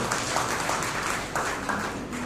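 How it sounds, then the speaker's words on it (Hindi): An audience claps at a Yoga Day event, a dense, continuous wash of applause heard throughout the short stretch, steady and moderately loud with faint voices mixed in. "आप मेरी बात से सहमत हैं तो ताली बजा के मुझे बता सकते हैं"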